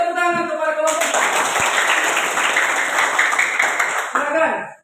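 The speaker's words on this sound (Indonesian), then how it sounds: "Beri tepuk tangan kepada kelompok 1." A class claps for a presenting student group, a dense burst of clapping that starts after about a second, holds steady and loud, then fades near the end, with voices faintly mixed in.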